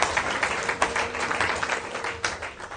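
A crowd claps continuously, a moderate, slightly distant patter of applause lasting the whole time.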